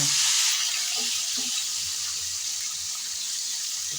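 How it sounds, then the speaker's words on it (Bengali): Chicken pieces frying in oil left over from frying small potatoes, a steady hiss of sizzling with faint spoon scrapes, loud at first and then settling into an even bubbling. "আমি এখন চিকেনগুলো ভেজে নেব আলু ভাজার তেলে"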